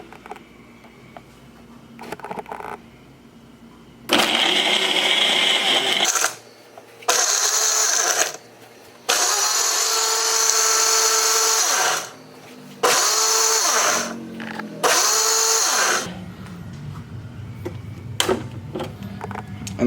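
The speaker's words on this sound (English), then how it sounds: "This works with about any blender." A blender roars in several loud bursts while making a protein smoothie, starting and stopping repeatedly as it blends, with quieter pauses between runs.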